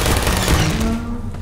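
Turrets from the game Portal opening fire: a loud, dense rattle of rapid gunfire lasting about a second, then cutting off abruptly, with no speech.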